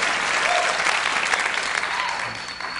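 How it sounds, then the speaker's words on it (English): A studio audience at a late-night talk show breaks into steady, full applause, a dense wash of clapping that holds throughout with no voices on top. "Now they're applauding."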